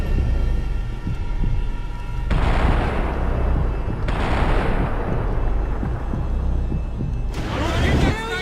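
Covering gunfire in Max Payne 3: bursts of close, loud shots come in three waves between stretches of softer rumble and low background sound, with bright ringing tones at the start.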